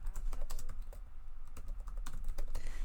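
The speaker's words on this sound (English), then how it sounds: "So I will type them all out double." Rapid, steady clatter of keys on a computer keyboard as hashtags are typed, close and fairly quiet, with no voices over it.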